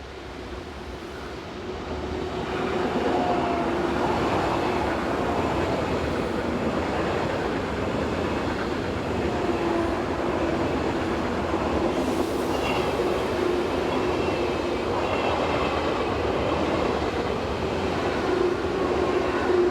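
Swiss class 500 electric trains, units 500-017 and 021, roll round a curve north of a station on the Gotthard south ramp, a loud sustained rumble and rail roar that builds quickly and holds steadily throughout.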